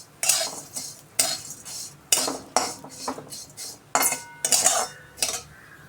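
Vermicelli roasts in ghee in a kadai while a metal spoon stirs it, giving repeated sharp scraping clanks in uneven bursts over a faint sizzle, with no talk.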